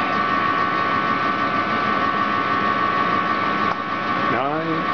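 A treadmill motor runs with a steady electric hum and tonal whine, shifting briefly as the speed steps up to 3.3 miles per hour near the end, where a short rising tone also sounds.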